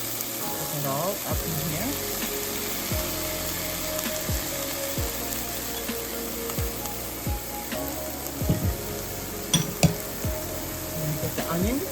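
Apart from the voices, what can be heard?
mushrooms and peppers frying in a pan for an omelette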